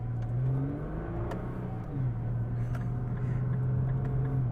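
An R35 Nissan GT-R with its early dual-clutch gearbox pulls hard, the engine note climbing steadily, dipping briefly at a shift, then rising again, loud and close with no talk over it.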